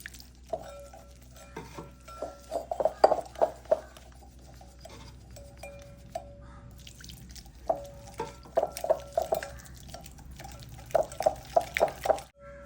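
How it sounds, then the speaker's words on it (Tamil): Water is added to cauliflower pakoda batter in a bowl and stirred in, giving soft, close, irregular wet squelching and clicking strokes in several bursts with short pauses. "தண்ணி ஆட் பண்ணி மிக்ஸ் பண்ணுவோம்."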